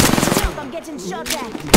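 Rapid automatic gunfire in a shooter video game, a dense rattling burst of shots layered with game effects, moderately loud and close throughout with a sharp blast near the end.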